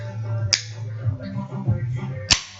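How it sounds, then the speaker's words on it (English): A can of Coke cracked open, a sharp snapping click near the start and another near the end, over a low background hum. "That's the sound of me opening a can of Coke to go in my little glass of Jack Daniels."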